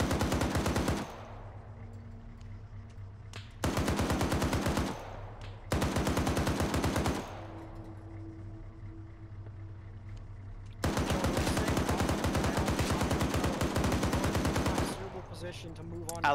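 A .50 cal M2 machine gun firing in a video game, four long rapid-fire bursts with pauses between them, loud and close, the final burst running several seconds.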